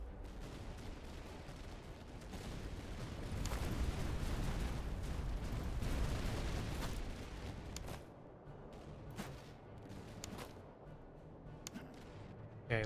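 Artillery fire from the Napoleonic-era strategy game Master of Command, heard as a dense, continuous barrage of booms and crackling gunfire that swells in the middle before thinning to scattered distant pops.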